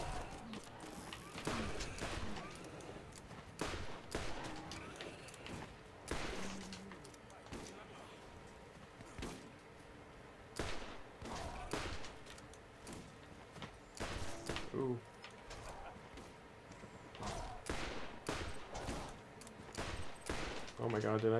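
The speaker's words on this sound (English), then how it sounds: "Did I miss all those shots?" Gunfire in the Borderlands video game: repeated sharp shots and rapid bursts keep cracking over a dense, busy game soundscape for the whole stretch.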